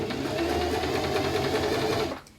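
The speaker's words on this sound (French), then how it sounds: "je vais coudre quelques points vers l'arrière" A sewing machine runs steadily through fabric while stitching a face mask, making a close, continuous whirring hum that sews briefly in reverse before stopping abruptly.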